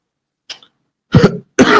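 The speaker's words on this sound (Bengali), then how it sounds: "সরি আমার খুব কাশি হচ্ছে" A person with a bad cough during an online maths class lets out a faint short clearing, then two loud, close, harsh coughs in quick succession, with no talk over them.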